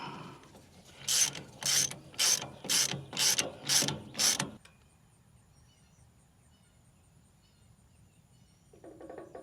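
A heavy-duty economy tractor flail mower's adjuster is cranked fully tight, giving a close, loud run of about seven even metallic ratcheting clicks, followed by near silence.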